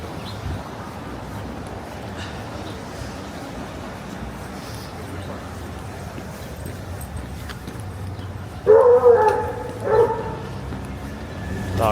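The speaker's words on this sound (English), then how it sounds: "Dog got something to say." A dog barks twice in short bursts on a New York City street during a winter walking commute between the West Village and Kips Bay, rising briefly over steady street noise and traffic.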